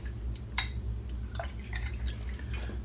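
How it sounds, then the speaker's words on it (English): Water poured into a large shaving bowl holding a puck of West Coast Shaving Bay Rum shaving soap, giving close, steady splashing and dripping with a low running-water wash underneath. "And then what I'm going to do is just fill it up with some water,"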